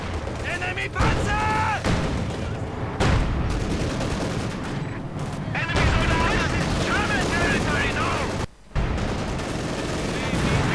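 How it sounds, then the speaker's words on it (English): Rattling bursts of light machine gun fire and other gunshots crackle through a Company of Heroes battle, layered with game effects, while a commentator talks over the action. "Grenadiers doing what they can to provide support with their light machine guns and anti-tank rifle."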